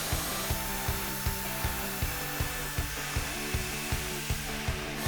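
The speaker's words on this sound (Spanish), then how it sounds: "Se prepara la fresadora y se hace el calado." A wood router cuts a cut-out in a wood board clamped to a template, giving a loud steady high whine from the motor with regular rhythmic thumps as the bit bites into the wood, close up, with no speech.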